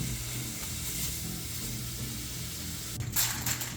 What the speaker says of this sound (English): So right now, that fat is slowly rendering out of this bacon.